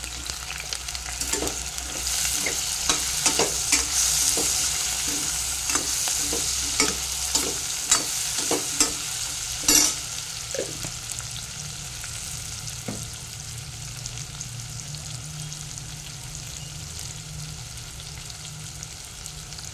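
Ingredients fry with turmeric in a pan for bitter gourd pulusu, a continuous close sizzle punctuated by repeated scraping stirs and clinks through the first half, easing into steady frying; no voices.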